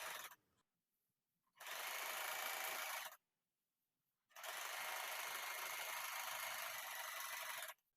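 An Usha Janome Wonder Stitch Plus sewing machine stitches a bedsheet in two runs, a short burst and then a longer steady one, separated by silence. The close, even mechanical whir plays alone with no talking.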